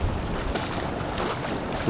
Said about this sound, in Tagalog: Ano, may mga alon.